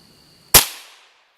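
A single loud gunshot from a big gun fired outdoors, a sharp crack with a short decaying tail, heard alone after a faint background hum.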